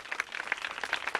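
An audience claps for a woman called Tracy at a WE Talk event, a brisk, steady patter of many hands over a little more than a second with no talk.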